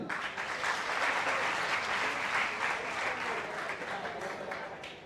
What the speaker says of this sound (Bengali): তালি দেন